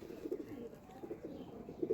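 Pigeons cooing nearby in a home loft, low soft throaty coos repeating in short rounded phrases over faint background noise.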